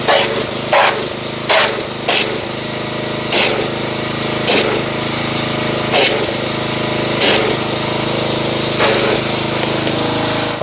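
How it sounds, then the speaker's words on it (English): A pressure washer foams Chemical Guys Glossworkz car soap, its motor droning loudly and steadily up close while sharp bursts of spray break in at roughly regular intervals. "So I'm going to go ahead and get the pressure washer, agitate this, and see what kind of foamage we make."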